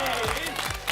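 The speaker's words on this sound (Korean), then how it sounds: "박수 한번 주세요." Studio audience applause on the JTBC variety show Knowing Bros, a brief burst of clapping mixed with voices and show sounds.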